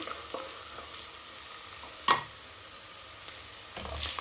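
Mint rice ingredients sautéing in oil in a pan with salt added, a steady low sizzle throughout with a sharp scrape of the spoon partway through and a louder stir near the end.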